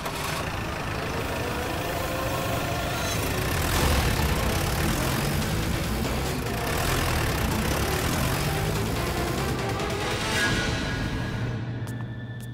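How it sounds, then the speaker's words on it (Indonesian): A car engine runs at a steady idle, a continuous low rumble that stays fairly loud and even throughout, with no voices over it. "Hei, Patil, ayo nyalakan mobilnya, ayo."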